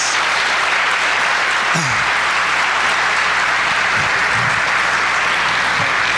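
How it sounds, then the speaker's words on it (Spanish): Sustained audience applause at the close of a conference talk on Industry 4.0, a dense even wash of clapping filling the room at steady loudness from start to finish, with no voices rising above it. "y Ricardo, pedimos que se te pueda brindar un caluroso aplauso."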